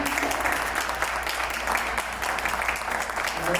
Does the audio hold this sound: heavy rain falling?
no